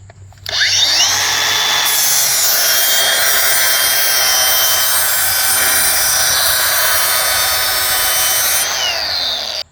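A lawn mower blade is ground on a motorized blade sharpener, a loud, steady, high grinding whine that runs unbroken for most of the clip after a short start, with no talking.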